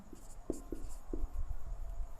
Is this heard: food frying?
no